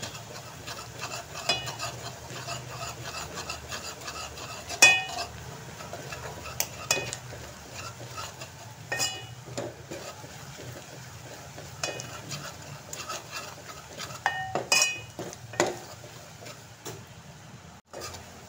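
Gram flour roasts in a pan while a spoon stirs it, giving faint, intermittent scrapes and light clinks over a quiet, low background hiss.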